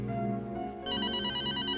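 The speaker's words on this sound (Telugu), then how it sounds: "I think it's your phone." A telephone rings indoors, a steady electronic ring that grows louder and brighter partway through and continues to the end, with no talk.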